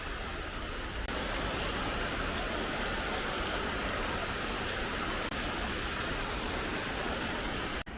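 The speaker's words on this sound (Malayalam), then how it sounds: "ഇടയ്ക്കിടയ്ക്കുള്ള മഴയാണ്." Steady rain pouring outdoors during an intermittent shower in Kerala, a constant even hiss of drops that runs unbroken throughout, with no voices.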